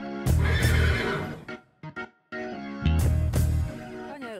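A young horse whinnies loudly up close, two long shrill neighs separated by a short gap with a couple of brief snorts in between.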